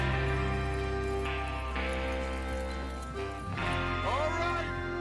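Horses in the video game Red Dead Redemption 2 move with clopping hooves and snorts under game music and voices, as a group of riders sets out, steady and moderately close.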